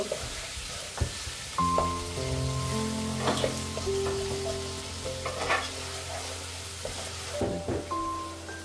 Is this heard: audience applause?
no